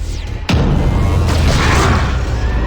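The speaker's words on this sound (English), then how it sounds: "So now I can use my plasma cannon." Plasma cannon fired in a Predator video game on the OUYA console: a sudden loud boom strikes, then a roaring, rumbling blast that surges again and lingers as a heavy sustained wash, with no talk.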